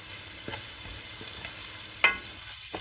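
Onions for chana pulao frying in a pan until dark, a faint, quiet sizzle broken by a few light spoon scrapes and one sharper clink near the end.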